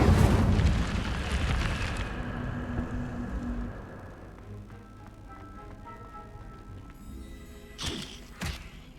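Fire spell blasts in a fantasy video game, a loud burst of booming, crackling impact that fades into a lower rumble, followed by two sharper bangs near the end.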